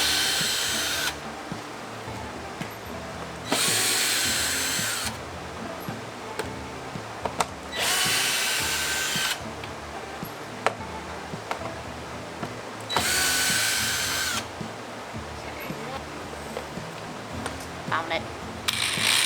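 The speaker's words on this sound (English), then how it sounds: "don't laugh at my drill" A cordless power drill whirs in four short bursts of one to two seconds each, with quieter handling clicks and rattles between them, close and fairly loud.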